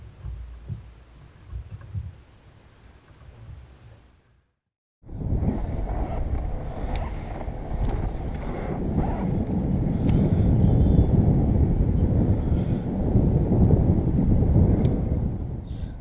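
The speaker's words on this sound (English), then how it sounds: "you can hear that it's incredibly windy" Strong wind blows across a pond during kayak bass fishing, a loud continuous roar buffeting the microphone after a brief quieter stretch and a moment of silence.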